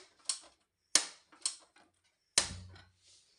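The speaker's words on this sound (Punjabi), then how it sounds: "ਲੋ ਜੀ ਆਪਾਂ ਗੈਸ ਬਾਲ ਲੈਨੇ" A gas stove burner being lit in a home kitchen, giving a few sharp, close igniter clicks spaced out over a couple of seconds, the last followed by a brief soft whoosh of catching flame.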